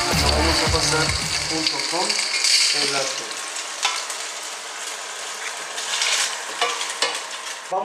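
Tuna searing in a hot pan with leftover fat from the fish, a steady loud sizzle and crackle of frying that holds throughout, with some stirring and scraping near the start, close and without talking.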